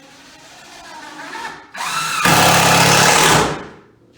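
A power drill drives screws into wood, whirring up in short rising bursts and then settling into one loud, sustained run before winding down.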